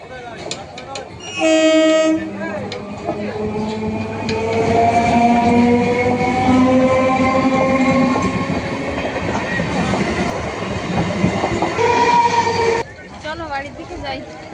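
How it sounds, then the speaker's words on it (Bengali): A train rolls into a station beside a crowded market, sounding a loud horn blast before its wheels clatter steadily past close by for several seconds, then fades as ambient noise returns. "বলতে বলতে ট্রেনটা এসে গেল"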